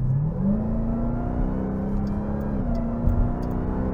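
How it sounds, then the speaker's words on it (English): Steady engine drone from inside a 2024 Dodge Durango SRT Hellcat, with a rising supercharger whine under mild throttle layered over it, holding through the whole stretch with a slight shift near the end. "you hear most of that supercharger whine under mild throttle, mid to mild throttle"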